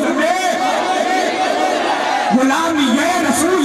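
A crowd at an Islamic religious gathering roars back in unison to a chanted slogan, a dense swell of many voices rising over a lead voice, loud and continuous.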